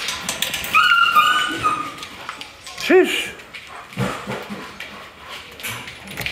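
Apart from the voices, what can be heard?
German shepherd dogs and puppies whimpering in a kennel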